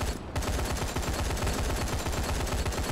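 Rapid automatic gunfire in Call of Duty Advanced Warfare, a continuous close burst of quick repeated shots that runs loud and steady with no talk over it.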